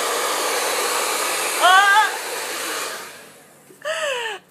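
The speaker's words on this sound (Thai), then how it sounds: "แล้วก็ที่สำคัญคือลมแรงเวอร์นะคะดูดิ" A Le Sasha professional hair dryer blows a strong, steady roar of air for several seconds, then cuts off and restarts, with brief whining tones as it changes speed.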